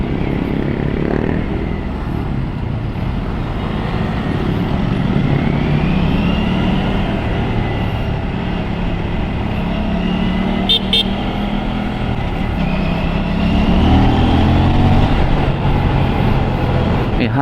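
An Aprilia RS457 motorcycle engine pulls and revs up in steady rising sweeps, loud and close, with a constant roar of wind and road noise around it.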